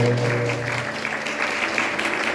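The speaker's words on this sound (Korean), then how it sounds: "한번 박수로 환영하실까요?" A church congregation claps in welcome for a visitor during a Sunday service, a sustained burst of many hands that gradually thins out.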